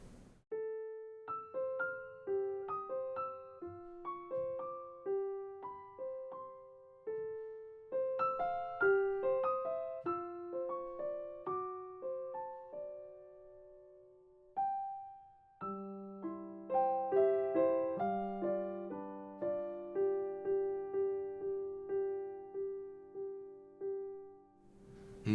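Solo piano playing the third section of a piece, a slow, gentle melody of clear sustained notes over soft left-hand chords, quiet and close, with no talking.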